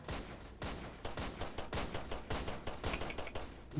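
Rapid, dense gunfire from the Roblox Police Tycoon video game, with bursts of shots running almost continuously and loud throughout, with no speech.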